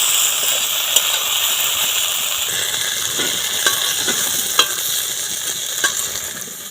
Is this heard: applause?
no